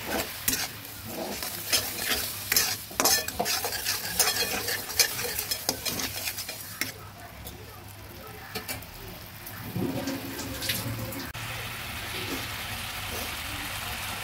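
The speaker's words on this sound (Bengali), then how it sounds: "মশলাটা ভালোভাবে ভেজে নিলাম।" Ground spices with green chilli and a pinch of chilli powder are stir-fried in a pan for a vegetarian squash curry. Close scraping strokes ride over a steady, crackling sizzle that eases into quieter frying.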